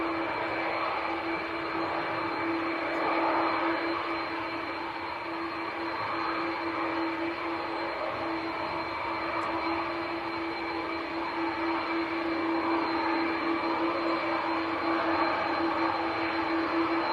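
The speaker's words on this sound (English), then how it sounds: "Taxiing very slowly, he's not in a rush this one." Aircraft taxiing slowly at Manchester Airport, a steady engine drone and whine that holds at an even level throughout, continuous and fairly close with no talk over it.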